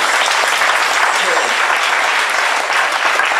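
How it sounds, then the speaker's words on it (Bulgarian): A congregation at a church prayer service bursts into loud, close applause, dense and sustained clapping that fills the whole stretch without pause. "Нека да им пляскаме и ги поздравяме."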